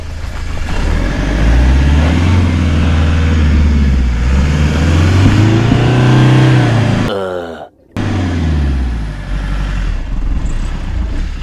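A stuck van's engine revs hard and steadily at close range, rising and falling as the wheels fail to grip, then cuts out briefly before it starts running again.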